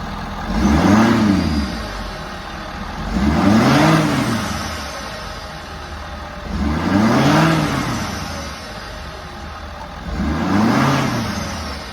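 A 2017-2019 Ford F-350 with a Powerstroke diesel engine and an S&B intake revs four times, each rise and fall spaced about three seconds apart over a steady idle, loud and close with no talking.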